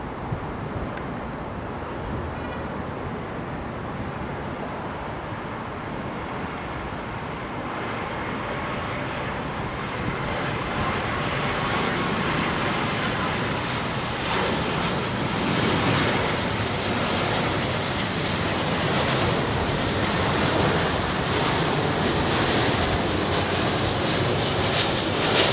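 An airliner in from Phoenix, Arizona lands on Heathrow's runway 27R, its jet engine roar building steadily and swelling loud as it passes, mixed with wind rumble over the microphone.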